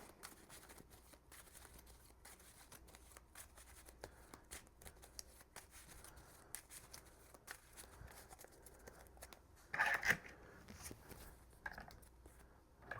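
Playing cards for the Marvel Champions card game are shuffled by hand in a quiet room, a soft continuous riffling and sliding with a brief louder burst near the end and no talking.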